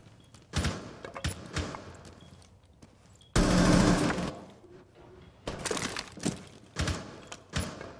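Shotgun firing buckshot in the video game Rainbow Six Siege, several sharp blasts in quick succession with a longer loud burst in the middle, spaced by short gaps.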